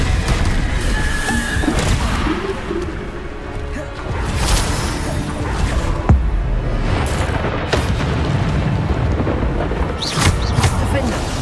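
Bombarda blasting-spell explosions in Hogwarts Legacy on PS5, a dense, continuous run of booming blasts and crashes layered over game noise and a talking voice.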